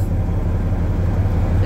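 A 70-year-old Chevrolet car idles with a deep, steady exhaust rumble, close and loud, running unbroken through the short stretch.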